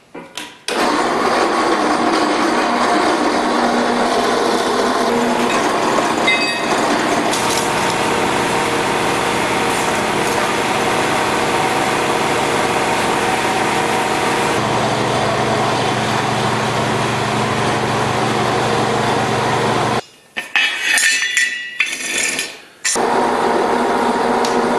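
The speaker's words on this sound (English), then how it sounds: "we'll tidy up this end with a nice 90 degree cut" A bandsaw cuts through 2x2 steel angle iron in a weld shop, a loud, steady grinding whine that runs continuously for about twenty seconds, then stops with a short pause and a final brief burst.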